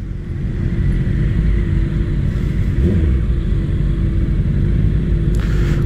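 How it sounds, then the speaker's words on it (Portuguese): Heavy traffic with many motorcycles passing on a road trip to João Pessoa, a continuous loud engine drone and rumble close by, steady throughout with no talk. "É muita moto."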